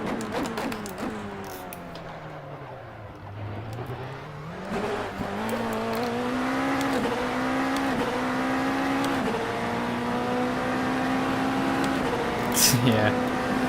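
An Indy Light race car circles the Norisring in Assetto Corsa, its engine note rising and falling through shifts and accelerations, steady and fairly loud, with people talking over it.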